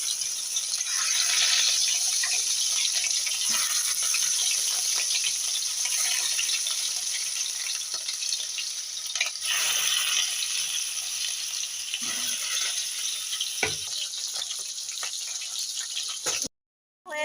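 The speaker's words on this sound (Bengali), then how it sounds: "তেলটা আমার গরম হয়ে গেছে। এবার মাছের পিসেসগুলো আমি এক এক করে দিয়ে দেবো।" Rohu fish pieces frying in hot oil give off a dense, steady, close crackling sizzle that runs almost unbroken, with a few louder pops, before cutting out near the end.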